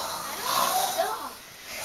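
A person in a classroom imitates snoring with one drawn-out, rasping breath that rises and fades over a couple of seconds.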